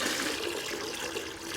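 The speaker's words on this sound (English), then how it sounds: "gently, we pour the slurry off the top" Liquid clay slurry being gently poured off the top of settled grit and stones, a continuous wet pouring and trickling, close and steady with no voices.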